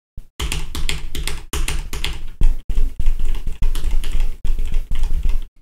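Rapid clicky tapping on the buttons of a hitbox arcade controller while playing Tekken 8, coming in close, loud bursts separated by brief pauses, with no voices.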